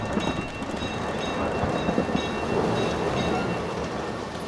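A storm at sea with heavy, continuous rain and wind, and a low rumble of thunder running steadily underneath, loud and close throughout with no voices.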